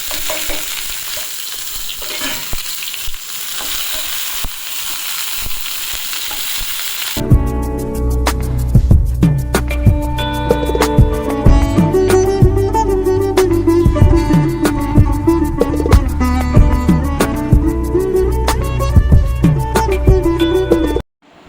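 Green chillies, finely chopped shallots and curry leaves fry in a pan with a loud, steady sizzle and crackle. The sizzle jumps sharply when the ingredients go in, and stirring clatters through it, close up with no talking.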